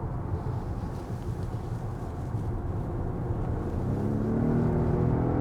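Volvo S90 Recharge, the 455 hp top model, pulling hard under acceleration with a steady, fairly loud engine and road drone that swells slightly toward the end as it shifts up; no talking.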